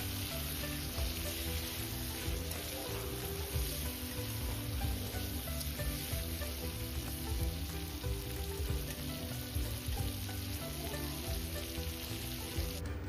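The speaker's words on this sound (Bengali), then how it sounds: "চিংড়ি মাছগুলো ভাজা হয়ে গেছে" Prawns frying in hot oil in a pan give off a dense, continuous sizzle, steady and close, with a faint crackle running underneath and no one speaking.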